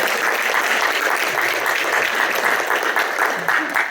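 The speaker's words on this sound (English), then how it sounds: "I'd like to give a quick round of applause for Father Enrique and for Father Juan Carlos" Dense, steady audience applause fills a reception in honour of Father Enrique and Father Juan Carlos, loud and continuous throughout.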